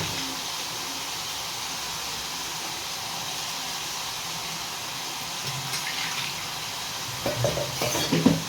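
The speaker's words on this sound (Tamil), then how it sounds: "தேவையான உப்பு போட்டாச்சுன்னா நல்லா கிளறி விட்டுருங்க." Chicken being stirred with salt in a pan for chicken uppu curry, a steady soft scraping and sizzling under a continuous wash of noise, with a few louder clattering stirs near the end.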